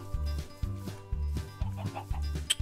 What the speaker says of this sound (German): Und hier haben wir Hühner mittlerweile.